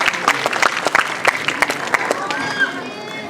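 A round of clapping from an audience at a kids' academy performance event, with distinct sharp claps in a steady rhythm over a bed of crowd noise, fading toward the end.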